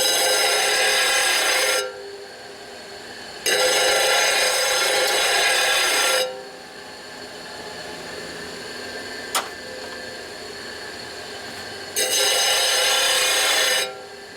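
Engine parts for a 1965 Harley-Davidson 74ci FLH panhead motor are ground by hand, with three loud, rasping strokes of about two seconds each, separated by quieter pauses.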